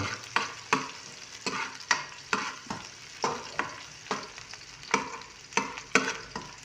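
Onions sauté in a pan for tinola with a dry sizzle under repeated sharp scraping strokes of a spatula, a steady stirring rhythm up close and no voices.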